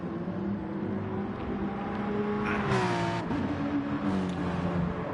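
Porsche race car engines drone steadily in Gran Turismo Sport at the Autopolis circuit, holding a continuous mid-level hum with shifting pitch as cars upshift and pass.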